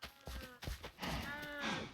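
Cows moo several times in the Minecraft video game, short quiet lowing calls in a survival farm setting, with faint footstep-like thuds between them.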